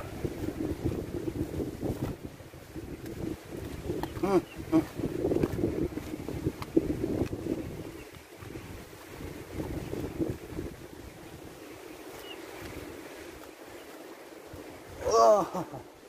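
Wind gusting across the open shore at Hac Sa beach in Macau, a steady rushing buffet against the microphone with low rumbling surges, and a brief louder swell near the end.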